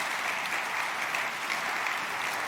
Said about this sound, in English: please give a huge round of applause for Yoshi